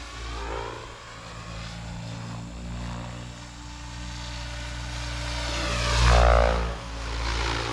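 A Blade Fusion 700 RC helicopter in flight gives a steady whining rotor and motor drone with a pulsing blade chop, swelling louder as it passes closer, then easing off.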